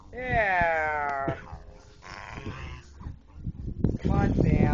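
A dog whimpers with a long rising whine, then gives low growling grumbles while a person talks over it close by in a home setting.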